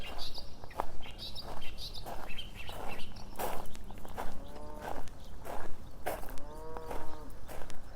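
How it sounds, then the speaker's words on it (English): Cows on Mount Arbel low for their calves, with two drawn-out moos standing out over an outdoor bed of chirping birds and faint wind-like rustle. "the cows up here in Mount Arbel calling out for their calves"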